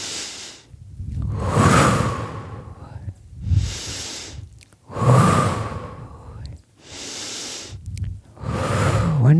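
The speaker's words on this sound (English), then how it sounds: "Breathing in" Deep, slow breathing during a gentle exercise class, with long airy inhales and exhales alternating in a steady rhythm, close and fairly loud, with no talking.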